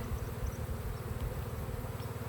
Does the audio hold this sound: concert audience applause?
no